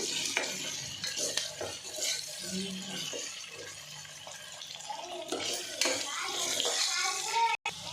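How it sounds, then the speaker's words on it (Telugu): Ginger paste fries in a pan, with quiet close sizzling and intermittent scraping stir strokes throughout. "అల్లం పేస్ట్ మంచిగా ఫ్రై అవ్వాలండి."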